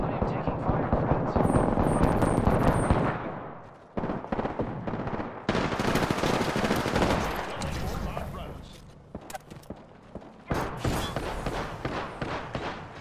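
Gunfire in Apex Legends rattles in heavy bursts, with loud volleys broken by short pauses and sharp single shots, close and intense throughout.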